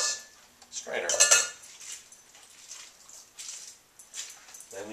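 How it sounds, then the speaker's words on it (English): A citrus half is twisted on a reamer, pushing juice, pulp and seeds down into a strainer while making guacamole. Close squeaky grinding and scraping come in several uneven bursts with light clinks between them. "Then you take the other half and do the same thing. It all goes down into the strainer."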